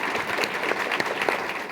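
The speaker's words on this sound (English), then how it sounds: "So let's give one more round of applause for Dr. Sanford James, everybody" An audience at a SXSWedu education award session applauds with steady, dense clapping that stays even and moderately loud throughout.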